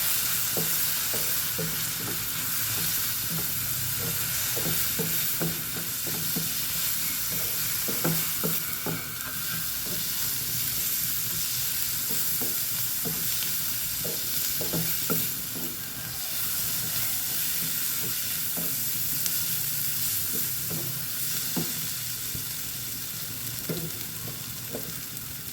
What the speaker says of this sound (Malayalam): ഇങ്ങനെ ഇളക്കിക്കും.